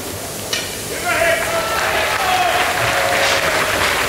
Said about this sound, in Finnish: Yleisö kannustaa